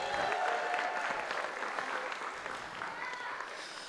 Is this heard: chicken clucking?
no